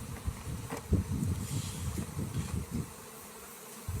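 Honey bees buzz steadily around beehives in a low, continuous drone with wind noise hitting the microphone, fairly close and alone without talk.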